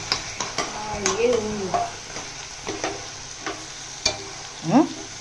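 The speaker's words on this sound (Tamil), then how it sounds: "இப்போ இந்த வெள்ளம் போட்டதுக்கப்புறம் நல்லா வெள்ளை வாசனை போகிற அளவுக்கு நல்லா கலரிக்கலாம்" A spoon stirs ginger thokku in a pan after jaggery goes in, giving repeated scrapes and light metallic taps over a low, bubbling sizzle.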